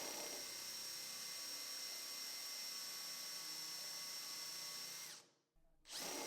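A power drill whines steadily and loudly for several seconds while drilling holes in a wooden tabletop, then cuts out abruptly before briefly spinning up again.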